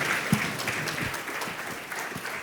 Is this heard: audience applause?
yes